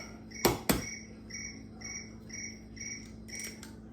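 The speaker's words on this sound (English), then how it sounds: "I hear crickets." Crickets chirp in a steady, repeating rhythm, faint and distant, after two sharp knocks nearby in a kitchen; a low hum runs underneath.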